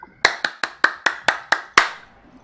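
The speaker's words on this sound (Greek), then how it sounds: "αυτά ήταν τα παλαμάκια μου" A streamer claps his hands eight times in a steady rhythm, each sharp, close clap ringing briefly before the next, with the last one slightly louder.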